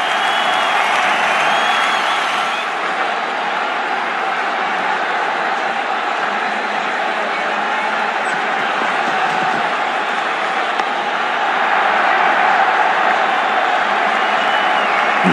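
Cricket crowd roaring and applauding after a six in a Pakistan vs Bangladesh match, a dense, sustained wash of cheers and clapping that holds steady and swells again toward the end.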